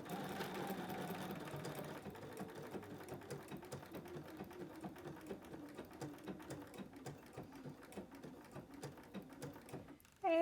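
A sewing machine stitches fabric along a seam at close range, with a rapid, even mechanical clatter that runs steadily for several seconds, then stops abruptly before a short final knock.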